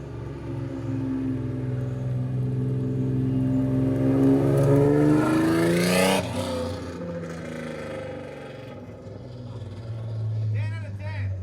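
A turbocharged Acura NSX engine revs while driving, its tone climbing steadily in pitch and loudness to a peak, then dropping back to a lower cruising drone, heard from inside the car with people talking over it.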